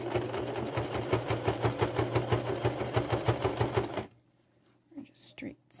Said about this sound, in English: We're just straight stitching.